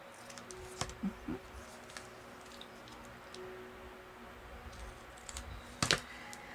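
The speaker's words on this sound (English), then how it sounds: "now let's just cut these ends off." Scissors snip the ends off book pages for a junk journal, giving a few sparse, crisp cuts and paper rustles close by in a quiet room.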